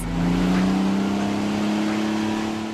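A loud modified streetcar engine revs and holds a deep, rumbling drone nearby, swelling then easing slightly, with no talking.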